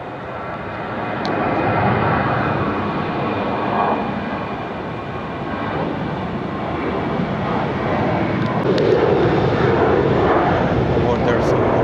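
Virgin passenger jet taking off on a flight to Brisbane near Cairns, a steady broad engine roar that swells and holds at a distance, with outdoor background noise throughout.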